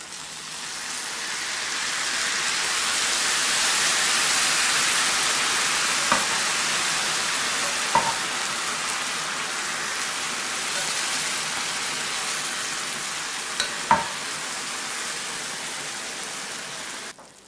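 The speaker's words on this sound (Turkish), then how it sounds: "Tatlımda fırından çıkardığım gibi şerbeti döküyoruz." Lukewarm syrup is poured over hot pistachio kadayif fresh from the oven, giving a steady close hiss and soft sizzling wash that runs throughout, with a few faint clicks scattered along the way.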